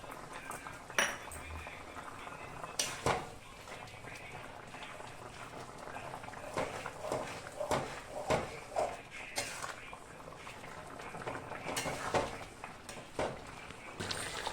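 A spoon clinks and scrapes against a pan as chopped coriander is stirred into a Bengali eggplant mustard curry, with irregular close metallic taps and knocks over a low kitchen background.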